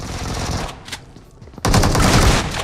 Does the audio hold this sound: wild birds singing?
no